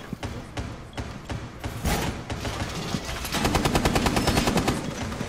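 Gunfire in Rainbow Six Siege, with scattered single shots followed by a rapid automatic burst that rattles on for about two seconds, loud and close.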